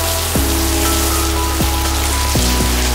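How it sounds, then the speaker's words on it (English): Heavy rain pours down steadily in a sudden downpour in the Bahamas, a dense continuous hiss close by with a few low thuds, and no voices. "It has just started bucketing down."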